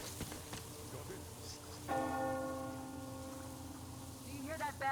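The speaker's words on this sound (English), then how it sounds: "Do you hear that bell?" A church bell tolls in the post-apocalyptic video game Metro Exodus. One clear strike rings out partway through and hums on over rainy ambience, with faint game sounds and a rising tone near the end.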